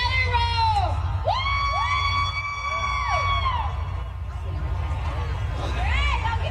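Festival crowd at the Rock the South outdoor concert gives scattered, modest cheers, with a few high whoops rising and falling over a constant murmur of voices.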